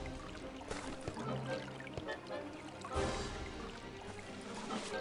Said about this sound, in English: this time we make it to a water fountain